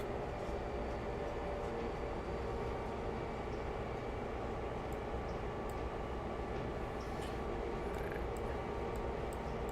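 A train in the Railroader video game runs at throttle 3 on the Black Mountain & South Tuckasegee Railroad, a loud, continuous low rumble with steady engine drone and no variation or voices.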